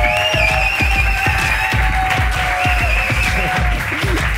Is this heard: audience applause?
yes